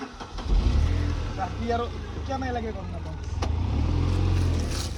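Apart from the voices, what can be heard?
car engine starting and driving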